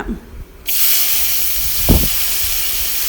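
Steam hisses steadily from a covered pot of food cooking with salt, a loud continuous broadband rush starting abruptly and holding to the end, with a brief low clunk near the middle.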